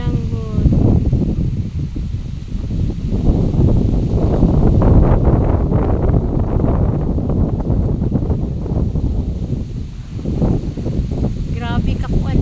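Strong wind roars and buffets the microphone outdoors while someone collects coconut sap; a dense, steady low rumble runs throughout, with voices talking briefly at the start and end.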